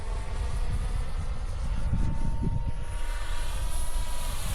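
A gyro-stabilized Batwing RC model airplane makes a low-speed pass, its motor a loud, steady droning whine that holds evenly throughout, with a slight swell in the middle.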